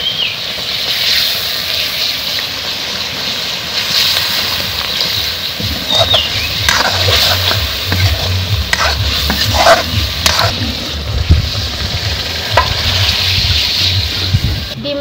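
Egg curry gravy simmering in a pan while being stirred, giving a steady bubbling sizzle with repeated scraping strokes of the spoon, close and continuous throughout.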